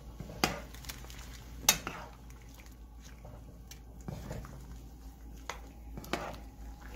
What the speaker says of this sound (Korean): 섞어줍니다.